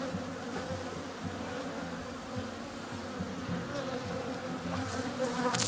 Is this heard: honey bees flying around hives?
yes